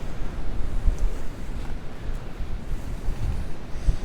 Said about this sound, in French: Ah là on est bien exposé au vent là.